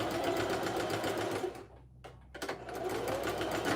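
A sewing machine back stitching a patch onto a leather jacket runs in a fast, even whir. It pauses briefly in the middle, then resumes at full speed, close and loud.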